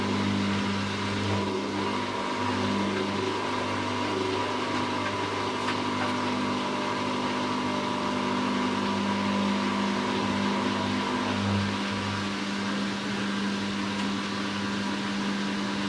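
A Hoover washing machine in its second spin with a load of towels during the final rinse, a steady loud motor drone with low humming tones that swell and ease, continuous throughout with no talking.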